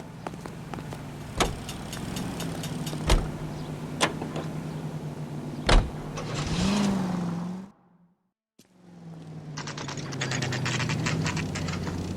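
Car driving in the video game L.A. Noire: a steady low engine hum with sharp clicks and knocks, a brief rising rev, then a short silent gap before the engine drone resumes.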